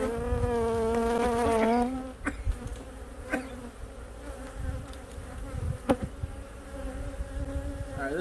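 Honey bees buzzing around an opened hive during a winter inspection, a loud close droning hum with individual bees flying past near the microphone, then lower scattered buzzing with small knocks and clicks.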